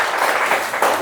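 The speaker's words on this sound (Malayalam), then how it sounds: "ഒന്ന് കൈയടിച്ചേ" Students in a classroom clap their hands together in a brief, dense burst of applause that swells near the end, close and loud.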